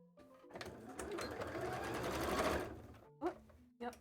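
A sewing machine stitches cosplay tail pieces together in a steady run of about two seconds, then stops; brief handling sounds and a voice follow near the end.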